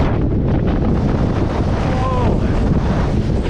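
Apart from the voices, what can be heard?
strong wind blowing on a mountain crater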